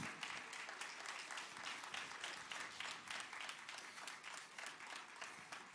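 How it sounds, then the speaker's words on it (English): Audience at a 5th grade graduation ceremony at a charter school in Uniondale claps for board members as they stand, a steady wash of applause filling the hall throughout, fairly distant and even. "Can we give them a hand clap as they stand?"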